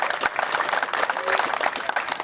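Audience applause at the opening of a new fire station in Santee, California, a brief burst of dense clapping from a gathered crowd, fairly near and even in level throughout.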